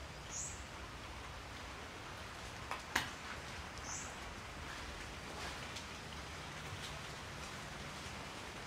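Rain falling outside a house as a steady, soft hiss, faint and even throughout, with a couple of brief clicks partway through and no speech.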